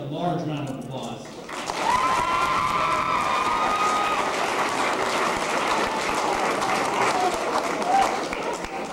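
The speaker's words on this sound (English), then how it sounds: "A large round of applause." A crowd at a youth sports team's trophy party bursts into sustained applause and cheering, loud and dense, with shouts mixed in; voices talk briefly before the clapping swells.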